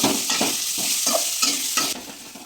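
Ash gourd pieces fry in hot oil with a steady, close sizzle, while a utensil stirs and scrapes through them in repeated short strokes; no one speaks.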